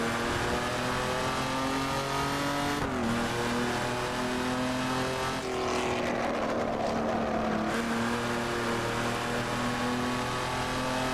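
A Jaguar XJ13 V12 with straight pipes howls in the Assetto Corsa racing game, a loud, continuous, harmonic engine note that rises, drops at gear changes and surges again through the run.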